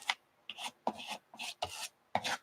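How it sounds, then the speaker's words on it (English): Teal paint being scraped across paper makes a series of six short, rasping strokes separated by brief pauses, each a close, dry scrape with a quick start and fade. "I love this teal color. Let's scrape it on here."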